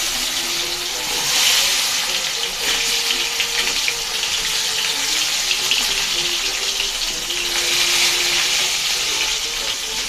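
Eggplant pieces fry in a hot wok with a loud, continuous sizzle and bubbling, steady and close throughout, with light scraping at moments.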